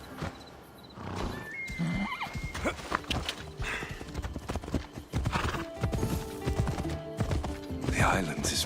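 A horse ridden in the video game Assassin's Creed Odyssey: quick, rhythmic clip-clopping hooves at close range, with a neigh and other game sounds and effects layered over the steady gallop.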